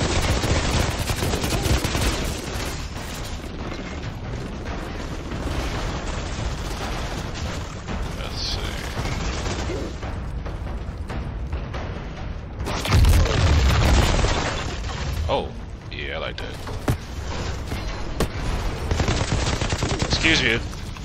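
Heavy gunfire in the video game Outriders, long rattling automatic bursts mixed with booming blasts and explosions, with voices speaking amid the continuous loud combat.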